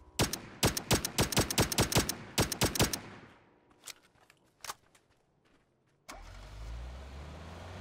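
A motorbike engine in the video game PUBG rumbles up loud and steady after a rapid run of sharp gunshots and a few scattered cracks.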